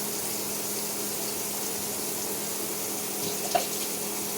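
Hot water runs steadily from a kitchen tap as a faint, even hiss with a low background hum, broken by one small clink near the end; no one speaks.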